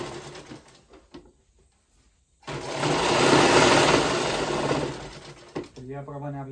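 Sewing machine stitching quick running stitches through a thick layered godhadi quilt, a loud continuous buzzing whir for about three seconds, with someone talking before and after it.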